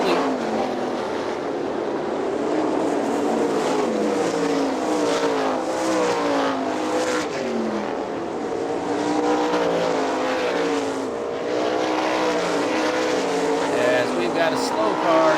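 410 sprint cars roar around Hartford Speedway Park in Michigan during an AVSS race, a continuous loud snarl of engines with rising and falling pitch as the cars pass, and voices faintly under the din.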